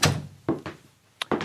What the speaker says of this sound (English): Lansing, please shut the door.